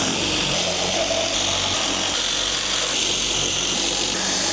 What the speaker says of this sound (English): we need a drill with a large bit in it that is going to just take the heads off those rivets